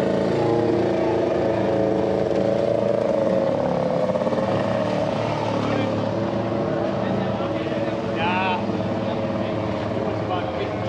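A vintage snowmobile engine runs at a 2023 snowmobile show held by the Hastings SnoMos club. It makes a loud, steady droning idle with a rough buzz, close to the listener throughout, while voices murmur in the background.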